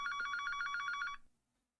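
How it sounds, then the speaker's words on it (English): A phone rings in the video game Sileo: Tales of a New Dawn with a fast electronic trilling ring tone in rapid pulses, clear and close for about a second before it abruptly stops into silence. "Suddenly my phone began to ring."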